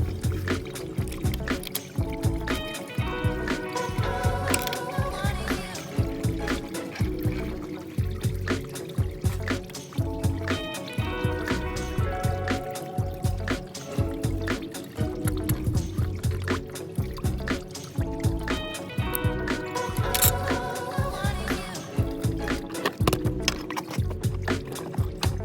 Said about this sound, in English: the coolant can run out of the reservoir